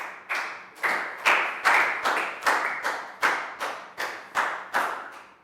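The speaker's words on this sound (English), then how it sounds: "High five and a big round of applause for Lakgao." Classroom applause from a group of young students, delivered as roughly a dozen sharp, evenly spaced bursts of clapping in a steady rhythmic pattern, fairly close and clear with no talking over it.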